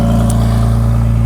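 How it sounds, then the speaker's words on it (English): Ferrari 296 GTB fitted with a Novitec exhaust, its engine holding a loud, steady, close-up drone with a strong low rumble and no talk over it. "with this exhaust you can really distinguish like a baby V12 sound"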